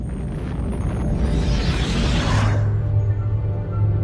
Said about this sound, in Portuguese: Uma supernova ou uma estrela explodem, causando uma onda gravitacional.